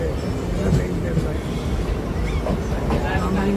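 A local commuter train on the Attipattu Pudhu Nagar to Avadi line rumbles steadily along the track, a dense, continuous low roar heard from inside the carriage with a voice talking over it.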